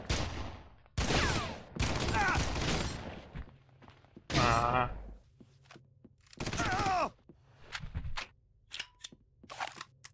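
A close-range gun in the video game Red Faction fires in short bursts that alternate with someone talking. Fainter clicks and shots follow near the end.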